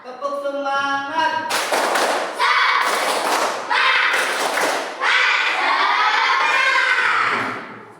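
Classroom students stand and do a tepuk semangat spirit clap, loud bursts of patterned group clapping mixed with children chanting and shouting after a short spoken lead-in.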